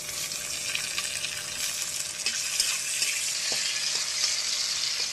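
Tomato frying in hot oil in a home kitchen, a steady dense sizzle with small pops and occasional stirring clinks, close and continuous with no talking.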